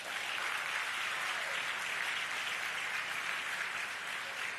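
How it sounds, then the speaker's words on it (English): Steady, even applause from an audience at a public event honouring a broadcaster, a continuous wash of many hands clapping at moderate distance, quiet and uninterrupted throughout. "I think that deserves a round of applause, y'all."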